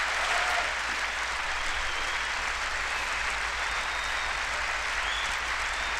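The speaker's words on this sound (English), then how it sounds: "There's a lot of clapping." Sustained applause during a State of the Union address, a dense steady clapping from a large audience that holds at an even level throughout with no voices on top.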